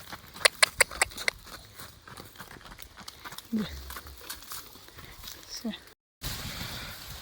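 Hooves clop on hard ground in a quick run of steps at the start, then scuffing and shuffling continue amid faint background voices.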